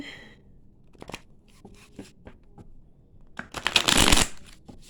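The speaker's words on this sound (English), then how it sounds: "I'm going to pull some tarot." A deck of tarot cards being shuffled by hand: scattered quiet card flicks and slides, then a dense, louder riffling burst near the end, close up with no talking.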